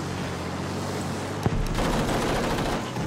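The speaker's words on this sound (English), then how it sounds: "I'm just blindly firing at everything." Gunfire in the video game Battlefield V, a dense, distant-sounding rattle of shots with one sharp louder burst midway, continuous and without talk.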